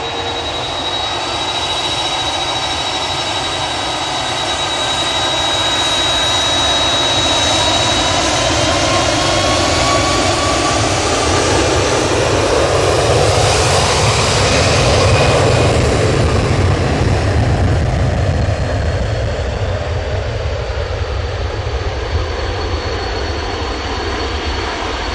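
Airbus A330 jet airliner at Manchester Airport, its engines roaring loud and steady for the full stretch, swelling to a peak midway with a whining high tone and broad rushing noise, no talking over it.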